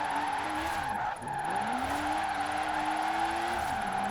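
A car drifting and spinning out in Forza Horizon 4, tires squealing in a sustained loud screech over a whining engine whose pitch dips and climbs as the car slides.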